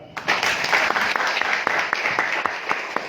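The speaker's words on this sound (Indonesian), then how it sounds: "Tepuk tangan." An audience applauds steadily in an indoor gathering, a dense wash of many hands clapping at close range for about three seconds.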